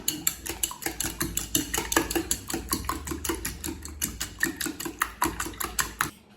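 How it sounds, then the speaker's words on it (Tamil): Rapid, steady clatter of a whisk or fork beating eggs with spices against a bowl, close and continuous, with quick rhythmic strokes throughout. "இது எல்லாத்தையும் நல்லா பீட் பண்ணிக்கலாம்."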